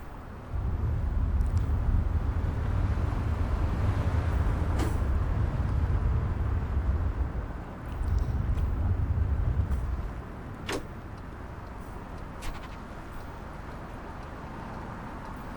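Tour bus driving in Tourist Bus Simulator, a steady low engine drone that runs loud for about ten seconds, dips briefly, then fades to a quieter rumble with a few faint clicks and a soft hiss.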